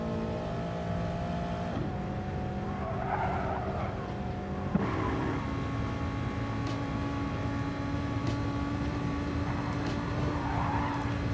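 Race cars in a video game lap the Nürburgring Nordschleife with a continuous droning engine note that steps in pitch with gear changes, tire squeal overlaid and no voices.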